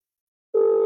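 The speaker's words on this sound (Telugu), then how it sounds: "ఒకసారి ఫోన్ చేస్తా ఉన్నా" A telephone placing a call gives a steady, clean electronic tone that starts abruptly after half a second of silence and holds evenly to the end.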